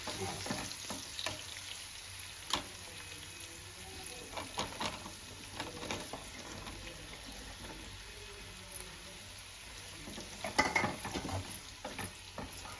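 Cut potatoes fry in a pan for aloo tomato curry, a soft steady sizzle broken by occasional clinks and scrapes of stirring, fairly quiet and without talk.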